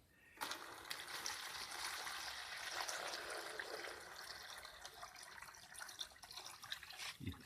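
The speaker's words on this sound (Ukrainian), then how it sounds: "Тепер наливаємо води." Water pours steadily into a bucket for several seconds, a continuous splashing rush with a few clicks and knocks near the end.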